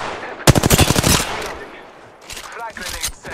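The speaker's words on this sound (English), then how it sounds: "Contact with hostile. Opening fire." Gunfire in the Apex Legends video game: a loud, rapid automatic burst of roughly a dozen shots, followed by quieter scattered fire and mechanical clatter near the end.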